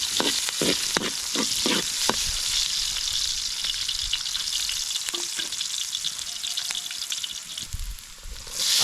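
Onion and garlic sauté in hot cooking oil, giving a loud, dense crackling sizzle throughout, with a few clicks of a utensil against the pan near the start.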